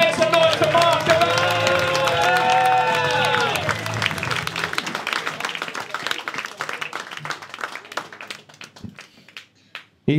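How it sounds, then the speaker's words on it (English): Applause and cheering from a comedy club audience at Hot Water Comedy Club, starting over music and voices, then thinning into scattered sharp claps that fade out toward the end. "let's clap it up"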